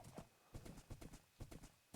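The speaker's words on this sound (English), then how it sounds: "we got a horse" Horse hooves clip-clopping in Minecraft, a steady run of soft, fairly quiet hoof clops in small clusters with no talk.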